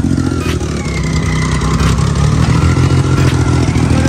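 A custom-built 800cc motorcycle engine idles loud and close, a steady rumbling throb with faint clatter running without pause.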